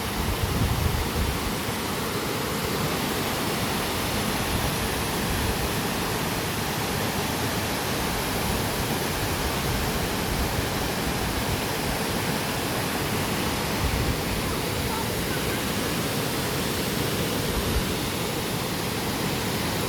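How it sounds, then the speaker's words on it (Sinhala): The Rathna Ella waterfall near Hasalaka pours over rock in a constant loud roar that never lets up, heard close by with no talking. "හොඳට වතුර තියෙන කාලෙට මේ ගල්දලාව පුරවල වතුර පාර එනවා පහළට"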